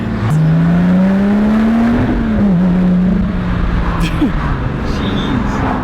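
A Lotus Exige V6 S sports car accelerates with a loud, steady engine drone heard from inside, pitch climbing through a gear and dipping at a shift, with someone talking over it.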